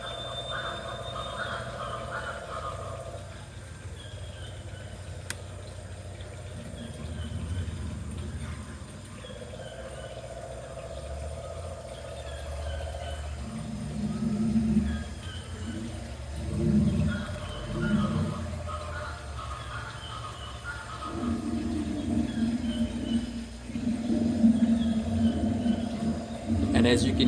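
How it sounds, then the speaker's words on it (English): Recorded jungle animal sounds play on a constant loop in a reptile room housing a veiled chameleon: a steady bed of croaks, calls and chirps in rising and falling phrases, fairly faint and continuous throughout. "as you can hear the animal sounds in the background"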